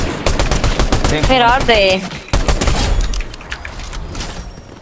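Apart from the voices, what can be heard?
sniper gunfire in a video game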